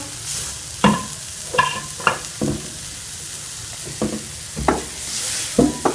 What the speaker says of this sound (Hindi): अब हम इसमें ये सारे जो ड्राई मसाले हैं ये शामिल कर लेंगे और इनको अच्छी तरह से मिक्स कर लेंगे सारे मसाले को